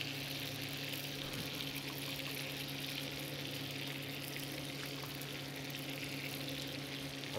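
Halved roast potatoes set cut side down in a hot pan beside venison, giving a steady, even sizzle and bubbling hiss throughout, close and moderately quiet with no talk.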